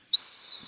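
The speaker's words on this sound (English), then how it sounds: "Whistles." A single sharp, sustained whistle blast sounds alone, loud and close, holding steady for most of a second.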